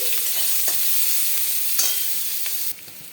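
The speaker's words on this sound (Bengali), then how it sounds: "কুচি কুচি করে পেঁয়াজ দিয়ে দিলাম পেঁয়াজ কুচি" Chopped onion frying in hot oil with whole spices like cinnamon, cloves and cardamom, a continuous close sizzle with soft stirring scrapes, steady throughout and dropping slightly near the end, with no voices.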